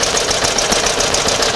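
A 1908 Cadillac engine runs steadily up close, a busy mechanical clatter with a fast regular rhythm, loud and alone with no talk.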